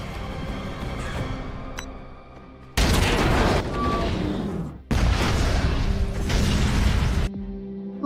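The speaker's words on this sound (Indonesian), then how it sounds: "Ledakan besar itu meluluh lantahkan tempat ini termasuk komplotan si kolonel." Two sudden, loud blasts from an explosive-filled bag in a film fill the sound and roar on for a couple of seconds each, with a low rumble and debris-like crackle between them.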